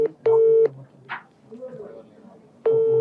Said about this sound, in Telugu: డైరెక్ట్ లైవ్ లో ఫోన్ చేసి ప్రయత్నం చేస్తున్నాం